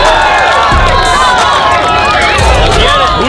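A dense, rowdy crowd of fans at a merch giveaway shouts and cheers continuously, close and loud, with overlapping voices and excited yelling throughout.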